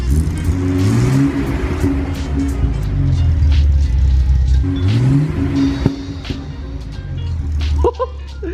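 A 1970s Datsun's engine revs repeatedly through several rising and falling swells, loud and close, with a few sharp exhaust pops near the end.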